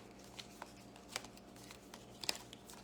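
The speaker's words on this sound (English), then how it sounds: "Just a little last shuffle." Tarot cards shuffled by hand in a quiet room, giving a few soft, scattered riffles and sharp papery flicks spread across the moment, close and faint, with no talking.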